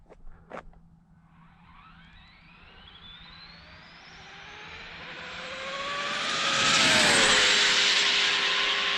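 An Arrma Infraction V2 GT RC car on a high-speed run approaches from a distance, its electric motor whine rising in pitch and loudness to a piercing peak as it rushes close past, with a faint knock at the start.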